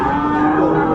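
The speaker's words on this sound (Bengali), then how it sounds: "সুন্দর গরু" A Sahiwal bull at a cattle market in Dinajpur gives one loud, close, sustained moo that fills the whole moment.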